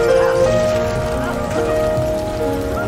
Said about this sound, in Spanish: Comenzó a llover.